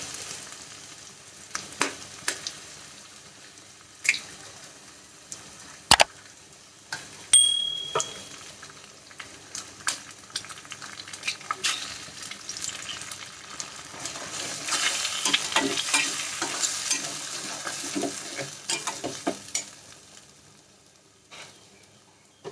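Three eggs fry with softened onions and tomatoes on low heat in a pan for mutton kothu parotta, a quiet, uneven sizzle broken by sharp spatula clicks and scrapes, intensifying toward the middle, with no voices.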